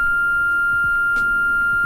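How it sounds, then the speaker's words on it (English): A continuous high-pitched cockpit warning tone in a PA-28R-201 Arrow III in Microsoft Flight Simulator 2020 drones steadily at constant loudness, with faint clicks and low rumble beneath it. "As you can hear with that nice annoying beep."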